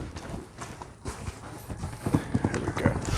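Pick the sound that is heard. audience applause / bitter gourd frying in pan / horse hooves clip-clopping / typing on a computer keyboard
horse hooves clip-clopping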